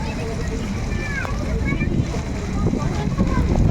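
Strong wind gusts at an outdoor rooftop sky garden, a steady low rumbling buffet on the microphone that swells toward the end, with faint voices in the background.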